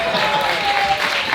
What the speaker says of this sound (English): Clap for Jordan.